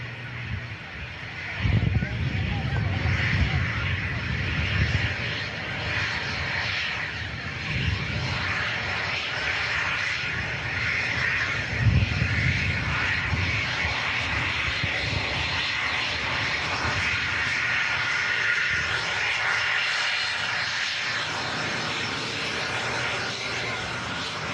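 A Jet2 Boeing 737 in holiday livery arrives from Girona, its engine noise a sustained rumbling whine with a couple of louder surges, while someone talks over it throughout.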